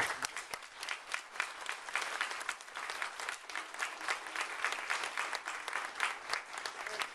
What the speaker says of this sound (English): I really wish everybody would join me in a real, true applaud